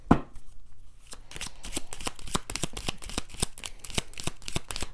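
Lenormand cards being shuffled by hand, a rapid run of crisp riffling slaps and flutters after a brief quiet start, close and steady, with no one speaking.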